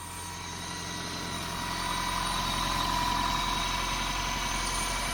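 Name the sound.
car engine idling, throaty with possible exhaust blow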